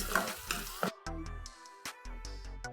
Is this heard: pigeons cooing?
no